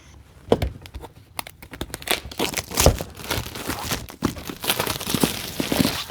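Xiaomi 17 Ultra Leica Leitzphone retail box packaging being cut open at the top: a close run of crinkling, tearing and crunching with sharp crackles and scrapes, steady and fairly loud, with no voices.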